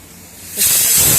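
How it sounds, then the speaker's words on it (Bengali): Water poured onto red lentils in a container: a sudden, loud, close hissing splash starts partway through and keeps going steadily to the end. "আচ্ছা এবার আর মুসুর ডাল এই যে জল দিয়ে রাখলাম"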